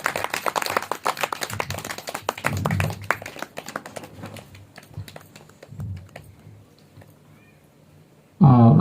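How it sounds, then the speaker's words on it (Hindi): Audience clapping in a hall at a Dr. B.R. Ambedkar Jayanti lecture after a garlanding, a dense run of handclaps that gradually thins and fades, ending in a sudden loud burst of other sound. "माल्यार्पण करके सभी जोरदार से तालियां।"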